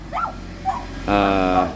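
Two small dogs yip and whimper at each other in a playful scuffle, a couple of short high yips followed by a longer whining cry, close and clear.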